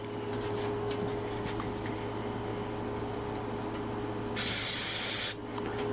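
CA glue activator sprayed onto a walnut wood bowl: a short, sharp aerosol hiss bursts near the end over a steady low workshop hum.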